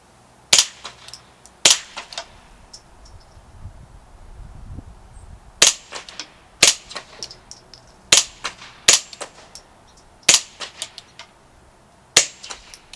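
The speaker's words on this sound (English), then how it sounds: "Most of what you're hearing there is the actual bolt hitting the back of the action there." A Remington 597 .22 rifle, suppressed and fed from a standard 10-round magazine, fires a series of sharp, quiet cracks at uneven intervals, the bolt slamming into the back of the action on each shot, with light handling noise between.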